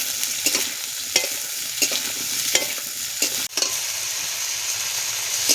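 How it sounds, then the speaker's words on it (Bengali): Ridge gourd slices fry with turmeric in hot oil, giving a steady sizzle with repeated stirring scrapes at a regular rhythm, close and fairly loud, with no voices. "দিয়ে আমি ঝিঙে কটা লাল লাল করে ভেজে নেব।"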